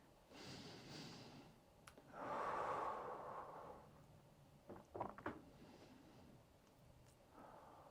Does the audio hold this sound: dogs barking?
no